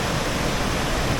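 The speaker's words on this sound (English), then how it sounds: "That's our first glimpse of flowing water." The Aling Aling waterfall near Lovina, Bali, gives off a constant, loud, broad roar of falling and rushing water with no break and no voices.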